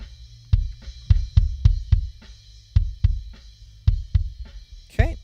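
Isolated kick drum hits through a Shure Beta 52 microphone, deep and punchy, played in an uneven rhythm of about a dozen strikes, ending with a brief rattling cymbal-like wash.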